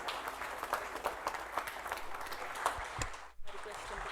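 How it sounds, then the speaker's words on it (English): An audience at the SJVN Drishti Conclave 2022 gives a round of applause, dense clapping from many hands in a hall, fairly close and steady, with a brief break near the end before it picks up again. "A huge round of applause for Shri R.S. Katoj, former Director Personnel."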